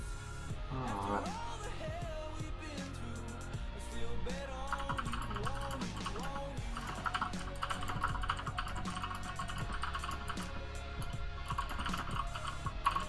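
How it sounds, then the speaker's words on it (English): Fast, steady typing on a clicky mechanical keyboard, with dense close-up key clatter running the whole time and no talk. "I love my mechanical keyboard."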